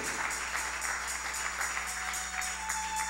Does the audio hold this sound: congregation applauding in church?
yes